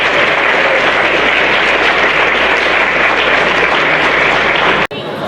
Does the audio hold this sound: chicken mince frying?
no